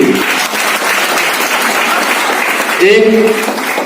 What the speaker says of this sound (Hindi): पहले जोरदार ताली हमारे सीएम डैम और सीएम जी के साथ प्रमीत जैन जी के लिए